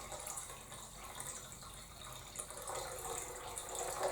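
Tap water runs quietly into a jar being filled to one litre, a soft, steady splashing stream heard from close by at low volume.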